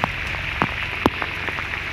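Monsoon rain falls steadily, a dense hiss with a few louder individual drops pattering nearby, and no voices.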